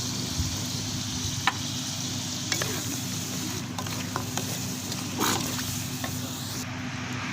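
Masala with ginger, garlic and salt frying in a pan for Bombay chicken biryani, a steady close sizzling hiss broken by a few light scrapes and clicks of stirring.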